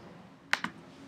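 Computer mouse clicks while setting up tests in the MyLab web tool: two quick, sharp clicks close together, alone over a quiet background.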